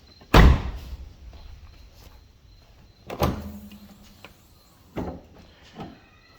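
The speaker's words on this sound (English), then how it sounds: "This cool little feature here. Little trunk release." Trunk release on a turbo race car popping the lid, a sharp mechanical clunk followed by several fainter latch thuds and knocks, close and alone.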